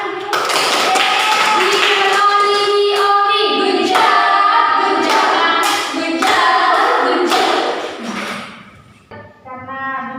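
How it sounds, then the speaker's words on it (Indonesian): A group claps hands together at the close of a small group guidance session, sustained applause with some cheering voices, fading out near the end. "tepuk tangan dulu."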